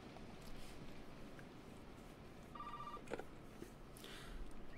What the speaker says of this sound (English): Oh, now the black phone wants to ring.